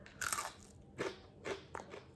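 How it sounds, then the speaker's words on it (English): Several crisp, loud crunches of biting into a crispy baked potato, spaced out with brief pauses between bites, close up. "Listen to that crunch, yo."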